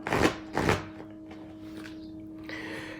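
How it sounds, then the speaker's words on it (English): Oracle cards from a Sacred Power deck being shuffled: two quick, close papery rustling bursts early on, then a quieter stretch over a faint steady tone. "give me a moment while I shuffle."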